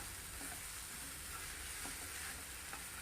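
Shredded sweet potato sautéing in a pan: a dense, steady sizzle that fills the short stretch evenly, with a few faint stirring touches beneath it.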